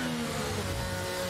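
Race cars in a PC racing video game at the Imola circuit, with a steady, loud engine drone and whining tones at sustained high revs throughout.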